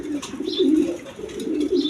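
A lively pigeon coos steadily at close range, low rolling calls repeating almost without pause, with faint chirps and light rustling behind.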